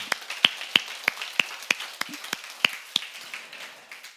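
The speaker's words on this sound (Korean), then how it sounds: "한번 박수 한번 치자." A church congregation at a tenth-anniversary service claps in celebration, a sparse series of distinct hand claps in an irregular rhythm, close and crisp, thinning out toward the end.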